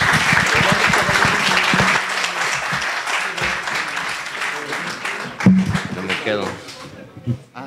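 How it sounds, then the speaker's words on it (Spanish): Audience applause for a panel at an academic history conference, a burst of clapping that fades out over several seconds while people talk over it. "un aplauso aquí para la mesa"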